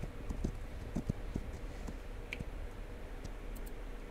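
Horse hooves clip-clop in a settler-defense video game, a run of light, irregular knocks spread across the whole stretch over steady low background rumble, with no talking.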